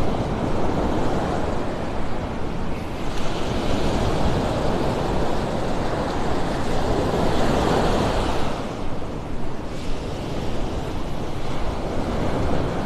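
Surf and wind roll steadily along Vanderbilt Beach in North Naples, Florida, a constant loud wash of breaking waves with gusty wind noise on the microphone throughout.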